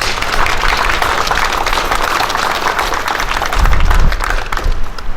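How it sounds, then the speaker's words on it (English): Applause from the crowd at a victims-of-crime remembrance ceremony, thanking the chaplains corps: continuous clapping from many hands, moderately loud and sustained, swelling slightly near the end. "give them a hand of applause if you would, please"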